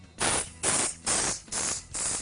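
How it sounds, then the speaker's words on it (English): Five bursts of aerosol spray, each roughly a third of a second long with short gaps between, applied close up over stones set into acrylic nail art. "just bring the spray in. This will keep your stones from clouding"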